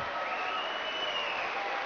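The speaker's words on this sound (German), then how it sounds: "Riesen Jubel, Riesenstimmung natürlich in der Halle, vor allem nach solchen Ballwechseln." Cheering and applause from the crowd in a German Bundesliga table tennis hall, TTV Gönnern against Borussia Düsseldorf, a steady wash of clapping and voices at moderate distance for the whole stretch.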